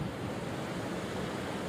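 A flooding local river in Junagadh rushes past in a steady, broad roar of churning water, continuous and fairly loud, with no voices.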